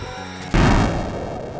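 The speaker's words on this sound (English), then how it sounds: "God, that explosion is so loud." A loud explosion in a video game bursts in abruptly after a low droning hum, a single heavy boom that decays into a rumbling tail.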